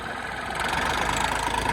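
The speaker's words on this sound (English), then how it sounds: "It is a 65 horse tractor. Go ahead, start it up." A 65-horsepower tractor engine idles nearby, a continuous low rumble with a faint rhythmic knock and no voices.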